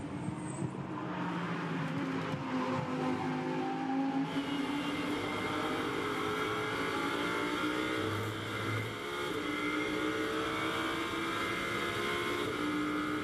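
Lamborghini Huracán Super Trofeo race cars at full power around the Zandvoort circuit during a Super Trofeo Europe race, a loud continuous engine roar with gear-change pitch sweeps, no voices heard.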